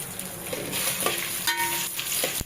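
Lentils and dried red chillies fry in hot oil in a pan while being stirred, a steady close sizzle with a few scraping stir strokes over it.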